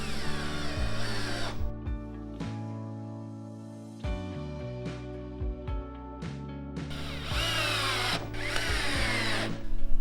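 A power tool drives bolts fastening welded metal legs onto a coffee table, its motor whirring in several loud bursts that rise and fall in pitch, separated by brief pauses, close to the listener with no talking.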